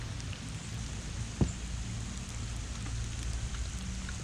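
Steady rain pattering on the Ocklawaha River in Florida on a cold, wet day, a dense even hiss of drops with one brief sharp knock partway through and no voices.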